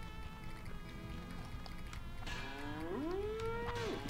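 A cow moos in the video game Conker's Bad Fur Day, a single drawn-out, low, wavering moo near the end over steady game background ambience.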